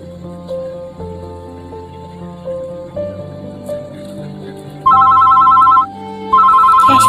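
An old telephone rings with a repeating electronic melody that gives way to loud, steady trilling bursts of ringing, close and prominent with no talk over it.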